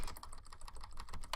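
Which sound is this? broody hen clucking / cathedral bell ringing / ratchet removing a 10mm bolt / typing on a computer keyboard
typing on a computer keyboard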